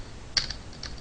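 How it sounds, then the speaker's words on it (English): A few quick keystrokes tap on a computer keyboard while Java code is written, a close, crisp click followed by two or three lighter taps. "let me type it right"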